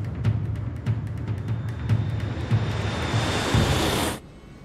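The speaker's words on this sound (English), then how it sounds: "It's a routine takeoff on an ordinary Tuesday morning." A Germanwings airliner's engines run at takeoff thrust during the takeoff roll, a loud, steady broadband roar with a thin high whine and regular thumps, cutting off abruptly near the end.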